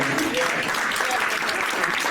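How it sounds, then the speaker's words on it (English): A crowd claps steadily for a couple of seconds, dense and even, with a faint voice mixed in. "Can we clap for him?"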